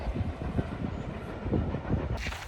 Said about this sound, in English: we've just seen that train from Harry Potter